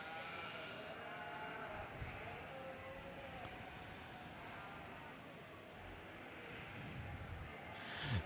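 Columbia ewes bleat in the sheep pens of a junior breeding sheep show at the Ohio State Fair, with a few calls rising over the steady crowd murmur and barn rumble of the show ring.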